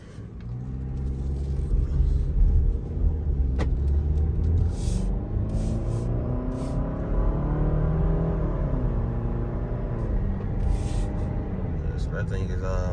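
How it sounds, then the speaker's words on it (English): A 2024 Jeep Grand Cherokee 4xe plug-in hybrid accelerating hard, its engine note rising steadily in a continuous pull heard from inside the cabin, while someone talks over it. "So I'm gonna give you guys a quick pull."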